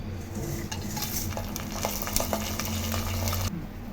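Whole spices, including cinnamon, cloves, cardamom, bay leaves, fennel, star anise and cumin, fry in hot oil for restaurant-style mandi biryani, giving a close, steady sizzle broken by scraping stirs and light utensil clinks.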